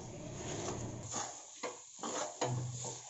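Moong dal halwa being stirred and mixed in a pan, with soft scraping and stirring strokes, a few sharper scrapes near the end, and a faint sizzle underneath, close and alone.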